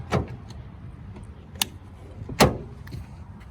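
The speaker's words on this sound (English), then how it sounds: "So when I open the door," Lexus IS F car door opening, with a sharp latch click followed by a couple more distinct clunks and thuds spaced over a few seconds, close and fairly loud against a quiet background.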